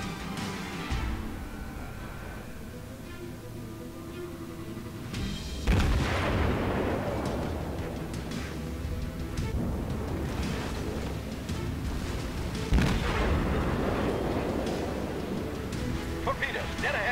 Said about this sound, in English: Who is shooting at me and from where?